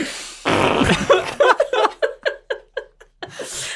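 A voice imitates a string of farts in a comedy podcast setting: a long buzzing raspberry, then about eight short, separate sputtering blasts in uneven rhythm, loud and close, ending in a breathy puff.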